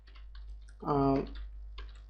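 Quiet clusters of keystrokes on a computer keyboard tap out code, with a voice speaking in the middle and short bursts of typing before and after.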